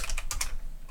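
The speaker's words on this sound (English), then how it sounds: "I type in something here." Several quick keystrokes on a computer keyboard, close and crisp, clustered in the first half and then trailing off into quiet room tone.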